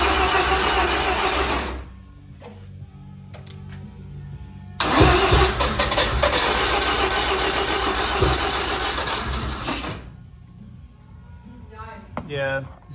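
A car engine is cranked with a portable jump pack, whirring in two long close bursts with a quieter pause between, then fading toward a brief sputter, with a voice speaking faintly.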